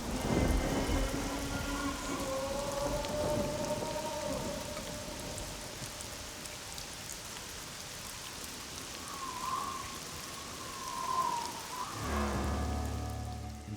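Steady heavy rain with rolling thunder sets a prehistoric thunderstorm scene after a lightning strike, with the rumble swelling near the start and again toward the end.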